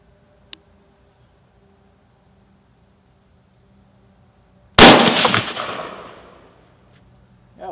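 A single rifle shot firing a Winchester 5.56 55-grain FMJ round cracks loudly outdoors and rings away in a fading echo, with steady crickets chirping before and after.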